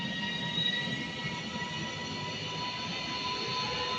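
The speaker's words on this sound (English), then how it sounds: "Leaving now is 331029 on the 1628 service" A Class 331 electric multiple unit pulls away from Handforth station, a steady broadband rumble of wheels and motors with faint high tonal whine, continuous and moderately close without talk.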